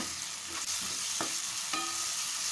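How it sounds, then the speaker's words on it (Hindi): Onion frying in a pan as ginger garlic paste goes in, giving a steady close sizzle with a few sharp stirring scrapes and clinks over it and no voice. "अब हम इसमें डालेंगे अदरक लहसुन का पेस्ट"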